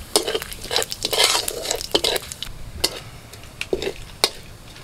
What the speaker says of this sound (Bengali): ওই তেলের মধ্যেই আমি ফোড়নটা দিয়ে দিচ্ছি